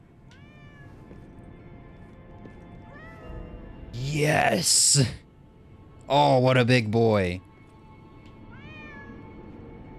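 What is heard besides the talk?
cat meowing in the video game Lies of P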